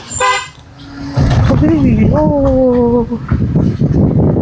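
A short, bright car horn toot sounds at a bend on a difficult road, then a person talks loudly nearby over rumbling road noise.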